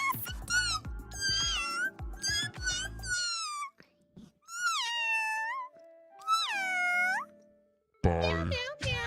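A person's voice imitates a cat, giving a run of drawn-out, rising and falling meows separated by short pauses, close and clear, with a louder burst near the end.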